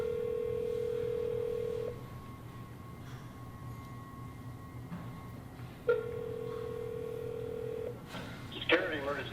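An emergency call box phone on a security post gives off steady electronic tones after its button is pressed, two sustained beeps a few seconds apart, fairly quiet against background hum, with a short clatter near the end.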